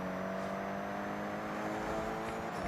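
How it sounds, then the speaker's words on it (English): A car engine revs and whirs steadily in the video game Forza Horizon 6, a continuous droning tone with faint acceleration and no speech over it. "That's what this engine must sound like."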